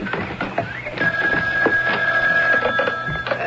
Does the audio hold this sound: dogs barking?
no